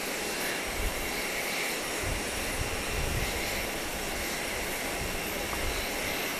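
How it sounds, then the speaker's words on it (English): A Boeing 777 airliner coming in to land at Grand Cayman airport, a steady distant engine roar and broad rushing drone that holds even and sustained throughout. "777 as it comes in"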